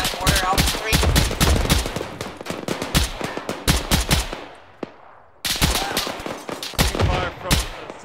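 Rapid automatic gunfire in the Arma military shooter, loud, sharp repeated bursts with a brief lull midway before firing resumes just as hard.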